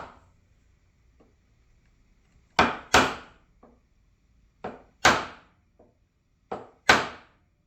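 A mallet strikes a chisel scoring the edges of wood for a bow tie inlay, with sharp close knocks arriving in pairs, three double strikes separated by short pauses and lighter taps between.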